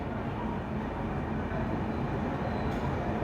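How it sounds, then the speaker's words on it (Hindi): Steady rumble and rattle of the Grand Trunk Express (12615) moving, heard from inside a 3rd AC coach as continuous, even, close rolling noise with no talk. "मैंने बोला था प्लेटफॉर्म नंबर 2 पे आई है हमारी ग्रैंड ट्रंक एक्सप्रेस।"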